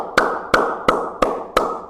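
Five sharp hand claps in an even, steady rhythm, close and distinct, each one a crisp smack standing alone with no voices over it.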